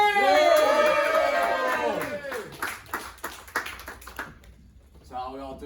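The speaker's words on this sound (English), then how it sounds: "Give yourselves a round of applause, come on! Make some noise!" At a live comedy podcast recording in Manchester, an audience claps and cheers loudly under a host's amplified voice, the applause fading into scattered claps and then quiet.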